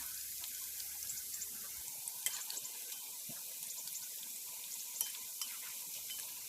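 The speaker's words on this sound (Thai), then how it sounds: "แล้วก็จะคนหม้อนะคะ ก็คนเรื่อยๆค่ะ เพื่อให้กล้วยของเราเหลืองแล้วก็สุกอย่างทั่วถึงนะคะ" Paprika-seasoned banana slices fry in a pot of oil, giving a faint, steady sizzle with soft scrapes and a few sharper clicks as the pot is stirred.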